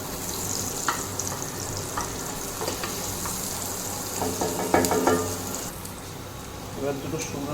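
Onions fry in hot oil in a pan on an induction cooktop set to deep fry, giving a steady close sizzle with scattered crackles and the clink of stirring throughout.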